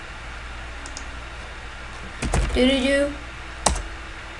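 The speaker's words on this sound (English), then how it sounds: "I'm gonna type something random like" Quick burst of keystrokes on a computer keyboard, close and crisp, followed by a single firmer key tap, with a voice speaking briefly nearby.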